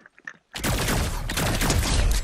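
A burst pulse rifle in a video game opens fire after a brief quiet moment, unleashing a loud, rapid, continuous stream of close gunfire that runs to the end.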